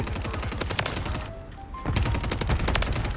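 Rapid, loud submachine gun bursts from Call of Duty: Modern Warfare, the Superi 46 (CMMG MkG), crackling up close, pausing briefly in the middle, then resuming in a dense volley.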